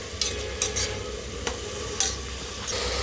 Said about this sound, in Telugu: ఇది ఉల్లిపాయలు వేగేదాకా వేపుకోవాలండి